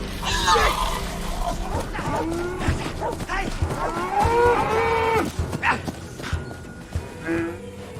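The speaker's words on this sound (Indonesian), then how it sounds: "berusaha menggiring seekor sapi agar masuk ke dalam jebakan kandang" A cow moos repeatedly while being herded into a trap pen built between two large rocks, its drawn-out calls loud and close, with someone shouting over them and rustling movement around.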